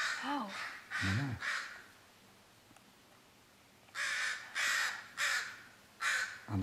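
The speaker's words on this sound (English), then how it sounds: "Get the crow away." A crow near a bald eagle gives a few harsh caws, goes quiet for a moment, then gives another run of four caws. The calls sound moderately close and there is no talking.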